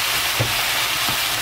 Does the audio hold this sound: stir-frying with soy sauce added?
yes